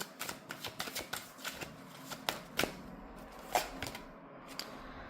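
A deck of oracle cards is shuffled by hand, giving a run of quick papery riffles and taps close by, soft and irregular, with no talking.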